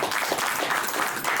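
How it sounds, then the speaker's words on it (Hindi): Brief burst of audience clapping at a leaders meeting, steady and fairly close for a moment, with no voices over it. "हम चाहेंगे हमारे मौर्य सर जी के लिए एक बार जोरदार ताली"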